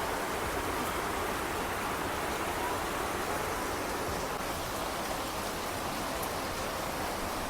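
Heavy rain hisses steadily and evenly throughout, a dense unbroken wash of falling water with no pauses.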